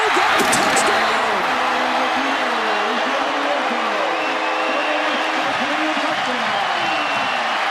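A college football stadium crowd roaring after a West Virginia touchdown, a loud sustained wash of cheering with a commentator talking over it.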